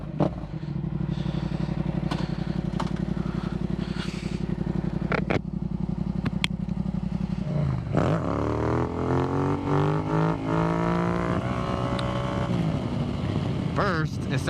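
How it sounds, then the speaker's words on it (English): A Yamaha MT-07 with its CP2 twin engine and Akrapovic carbon exhaust rumbles at a steady idle, then revs up and pulls away, its note rising and falling through the gears, loud and close. "I love the way the CP2 engine sounds."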